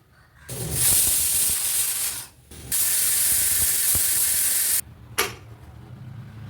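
Loud hissing bursts of steam venting from a pressure cooker whistle while cooking a cowpea curry, two long sprays separated by a brief gap, then a short puff.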